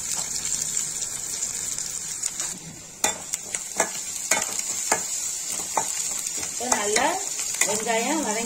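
Sliced onions sizzle steadily in a frying pan with mustard and fenugreek seeds, with repeated sharp scrapes and clinks of a stirring spoon against the pan, close and loud, no voices.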